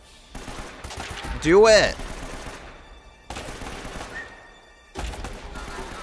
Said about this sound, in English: Shoot the gun, Elena.